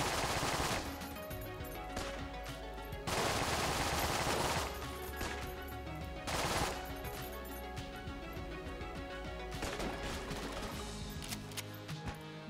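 Rapid video-game gunfire from a gun in Enter the Gungeon, dense bursts of shots in several loud volleys over a continuous game music bed, with no speech.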